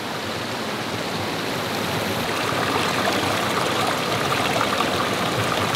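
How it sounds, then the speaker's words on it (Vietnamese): A forest stream flows steadily next to a campsite, a loud, continuous broadband rush of water that swells slightly toward the end, with no voices. "Suối kế bên luôn nha các bạn."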